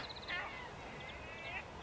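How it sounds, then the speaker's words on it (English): Large seagulls calling beside a canal towpath near a waste site, a few short, faint squawking cries in two brief bursts over quiet outdoor background. "Big seagulls."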